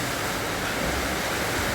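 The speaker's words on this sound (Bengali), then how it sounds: "আজ সকালবেলা থেকে সারাটা দিন একভাবে বৃষ্টি নিয়ে যাচ্ছে" Steady, dense rain falls without pause during Cyclone Remal near Dhaka, a loud, even rushing wash with no breaks.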